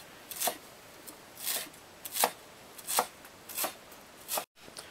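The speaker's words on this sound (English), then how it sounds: "you can chop everything into the meat, and like I say, you need a really heavy chopping block for this" Cilantro being chopped into meat with a cleaver on a heavy chopping block for an Akha meat cake, about seven sharp, evenly spaced chops close by with quiet gaps between them.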